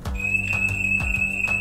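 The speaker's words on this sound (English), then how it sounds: "you can arm and disarm your home at the click of a button" A home security alarm system sounds a steady, piercing high electronic tone while arming, loud and close, with a rhythmic pulsing thump beneath it.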